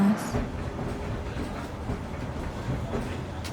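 A local train on Vietnam's railway heading from Hanoi to Ninh Binh, a steady low rumble of the running cars with faint rhythmic rail clatter, heard from inside at moderate level.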